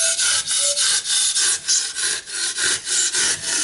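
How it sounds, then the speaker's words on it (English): Handsaw cutting through model stone wall material for an OO or HO scale layout, a steady rhythmic rasping of about a dozen back-and-forth strokes, close and loud, with no talking. "I'm using that handsaw I just showed you a minute ago."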